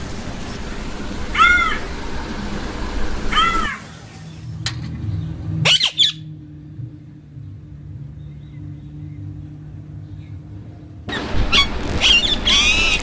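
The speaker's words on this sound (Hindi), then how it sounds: "सामान्यतः इन्हें कौवे, कौवा, राउक्स और जैकडॉज कहा जाता है।" Crows caw in a few separate bursts of harsh, repeated calls, moderately close, with quiet background noise and a silent stretch between the calls.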